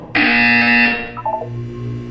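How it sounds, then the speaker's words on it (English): Portal 2 game buzzer: one loud, harsh electronic buzz lasting under a second, then a short falling tone sequence and a low hum. "When you hear the buzzer, look down at the floor."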